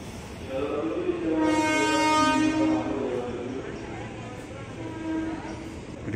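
A KRL commuter train bound for Bekasi rumbles at Manggarai station, its horn sounding a long, loud blast over the steady hum of the railcars, with people talking nearby.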